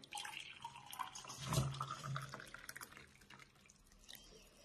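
Boiling water from an electric kettle poured onto a polymer clay mug, a steady near splashing and trickling stream that swells in the middle and then tapers off into lighter drips.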